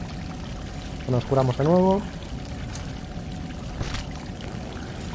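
Steady rushing water runs through a ruined temple in the game Salt & Sanctuary, a constant wash in the background while someone briefly speaks over it.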